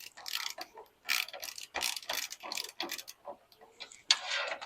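A ratchet socket clicks in short, uneven bursts of close mechanical ticking and rattling, with brief pauses between turns, in a woodworking shop setting.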